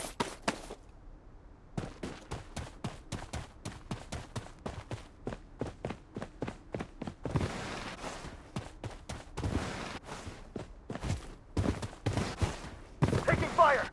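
Gunfire in the video game Blood Strike: long rapid bursts of shots at close range, dense and loud, broken by brief gaps and mixed with footsteps and game effects.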